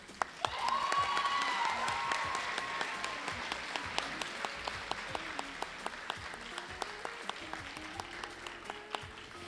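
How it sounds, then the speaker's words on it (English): Steady applause from a crowd at a festival ambassador coronation, loud at first and thinning gradually, with a few sharp individual claps standing out near the end. "Please give them another round of applause."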